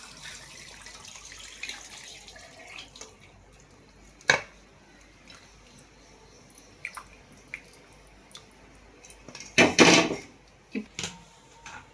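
Strained mutton yakhni stock is poured back into the mutton. Scattered drips and small splashes lead up to one louder pouring gush near the end, with quiet pauses between.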